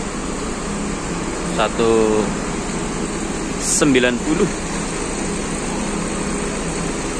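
Front-engine PO Haryanto bus with Jetbus 3 body and Mercedes 1623 engine pulling into the IBC Wiradesa depot, a steady low engine drone with brief louder surges under someone talking.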